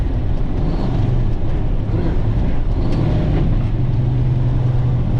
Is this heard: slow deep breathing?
no